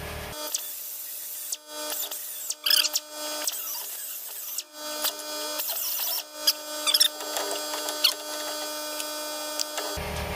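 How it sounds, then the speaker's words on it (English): A power tool fitted with a sanding attachment grinds a disc brake conversion part for a 1954-1971 Dodge D100 pickup, a steady high whine broken by short, sharper bursts as it touches the metal, close and alone. "With a sanding attachment on here that doesn't take off very much."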